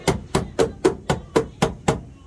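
Hammer pounding sheet metal on a 4x4 Astro van to create tire clearance: eight sharp, evenly spaced strikes in quick rhythm, close and fairly loud, with no talking.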